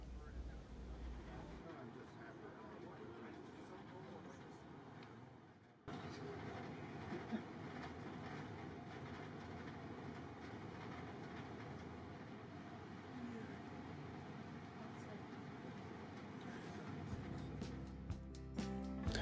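VIA Rail's The Canadian passenger train rolls steadily along the track, a continuous rumble with faint clickety-clack and wind noise heard from inside the moving train, loud and even throughout.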